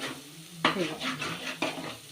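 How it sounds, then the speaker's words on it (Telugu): Goat tripe browning in hot oil with the oil separating: a soft, steady sizzle broken by two sharp scrapes of a spoon stirring the pan, close and fairly quiet, with no talking. "మనకి ఆయిల్లో మంచిగా వేగింది బోటి ఇగో ఆయిల్ కూడా సపరేట్ అవుతుందండి"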